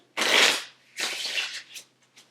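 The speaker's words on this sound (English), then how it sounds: "I'm going to go ahead and shuffle." A deck of playing cards is shuffled by hand at a table, two quick riffling bursts followed by a few lighter flutters, close and crisp with no talking.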